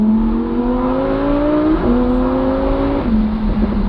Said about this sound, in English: let's drop it down a few cogs, and let's indulge in the audible delight of a Lamborghini V10